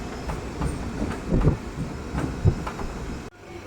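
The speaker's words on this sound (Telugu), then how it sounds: "మన ట్రైన్ వచ్చేసి తణుకు రైల్వే స్టేషన్లో ప్లాట్ఫామ్ నెంబర్ 1 మీదకి అయితే వచ్చిందండి" Simhadri Express train pulling into Tanuku railway station, a close rumble of rolling railcars with rhythmic clickety-clack wheel thumps, ending abruptly.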